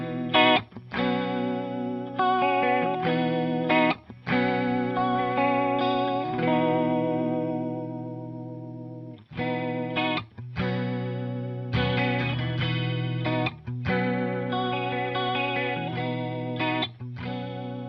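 Electric guitar through an EHX Small Clone chorus pedal set to an extreme fast rate, with chords and notes warbling in a rapid vibrato-like shimmer. It is played alone at moderate level, with short pauses between phrases.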